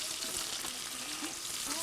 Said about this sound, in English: They're frying fish